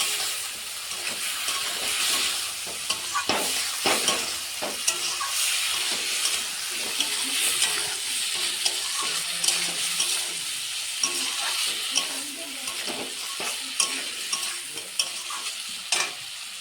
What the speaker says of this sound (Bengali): ভালো করে মশলার সঙ্গে মিশিয়ে নেব।